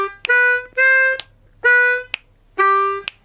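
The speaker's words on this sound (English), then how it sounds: "then we are going to play the second half of the riff, which sounds like this" A harmonica plays four clear, loud held notes in a bouncy off-beat pattern, the second half of a riff, each note ending in a short breathy accent.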